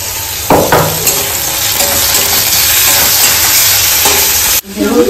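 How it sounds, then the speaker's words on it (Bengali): Garlic and chili sizzle loudly in a hot pan with steady frying hiss and occasional stirring scrapes. The sound cuts briefly near the end, then resumes. "রসুন আর লঙ্কাটা এই যে এর সাথে কষিয়ে নেব"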